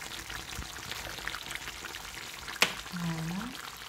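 Courgettes tumble into a frying pan for a rice tajine, one sharp clatter of the pieces landing followed by a low, soft sizzle, all heard close up.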